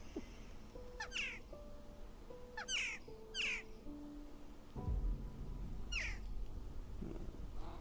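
Magpie in a video game trailer giving a few harsh chattering calls in separate bursts, mixed with tonal game sounds and a low thud partway through, with no talk.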